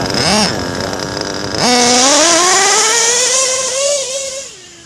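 A modded LRP XTM nitro RC car engine revs hard: two quick blips climb and fall, then a long, loud, high-pitched wail holds and slowly rises before easing off.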